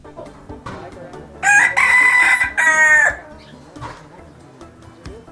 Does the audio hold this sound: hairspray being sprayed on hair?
no